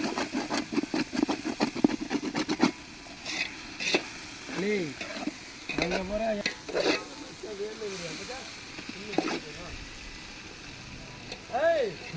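Chicken pieces for chicken biryani sizzle and get stirred in a pot during village cooking. Scraping and frying sounds run under frequent talking.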